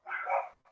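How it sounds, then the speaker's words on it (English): A dog barks once up close in a loud, sustained burst, followed by a brief softer yip as it trails off. "It's my dogs."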